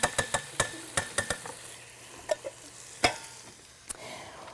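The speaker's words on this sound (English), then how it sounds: "we're going to add our clams in, and we're going to let those brown for a minute as well" Clams browning in a pan with garlic and onions, with a soft sizzle under a run of sharp clinks and scrapes of a utensil stirring against the pan, tapping quickly at first and then coming in scattered knocks.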